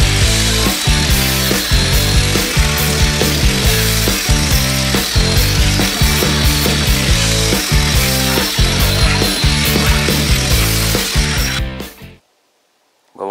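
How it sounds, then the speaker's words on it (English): A power sander grinds continuously on a Model A Ford pickup chassis with a rough, rhythmic scrubbing pulse, loud and close, before stopping abruptly near the end. "so let's get to sanding again"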